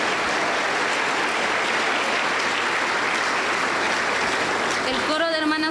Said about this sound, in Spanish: le recibimos con fuertes aplausos para el Señor Jesús